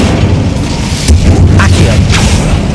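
Hogwarts Legacy's Incendio fire spell bursts with a deep, rumbling whoosh and a couple of soft pops, loud and full over continuous game background sound.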